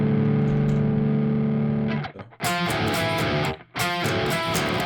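Open strings on a heavily distorted electric guitar are strummed loudly after a held, buzzing chord, with two sustained crunchy strums separated by a brief gap.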